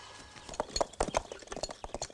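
Horses' hooves clip-clop in a quick, irregular run of sharp beats as riders flee, fairly close and without any talk.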